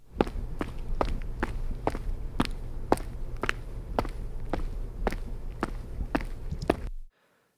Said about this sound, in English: I've recorded some footsteps in an environment that has a high noise floor.